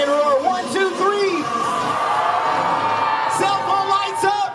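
A crowd at a Disney College Program welcome event lets out a loud, sustained collective roar imitating a big lion, whooping and bellowing voices swelling together for several seconds.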